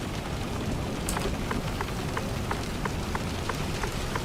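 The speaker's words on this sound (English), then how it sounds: "That rain sounds loud, don't it?" Steady rain hisses loudly in the Euro Truck Simulator 2 driving game, with a regular ticking of drops or wipers sounding throughout and no talk.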